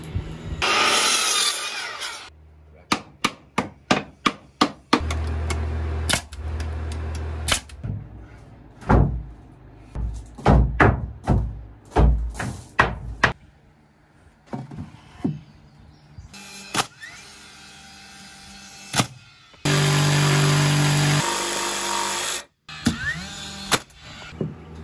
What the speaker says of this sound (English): we're nailing them on with ring shanks out of actually a sighting gun